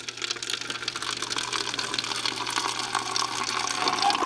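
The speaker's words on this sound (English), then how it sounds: "I'm just going to go ahead and get the water going here" Refrigerator water dispenser running steadily, a continuous splashing flow of water filling, moderately close with no talking, during a leaking-dispenser repair with a replaced water inlet valve.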